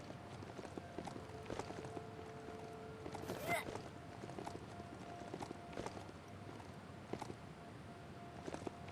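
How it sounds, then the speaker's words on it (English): Steady clip-clop of a mount's hooves in the game Biomutant trots along at an even pace over low game ambience, with a brief whooshing swell partway through. "Love to hear a mount's footbeat."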